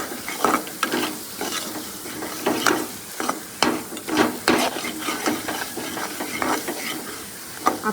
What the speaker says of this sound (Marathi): हा मसाला चांगला भाजून घ्यायचा तेल सुटेपर्यंत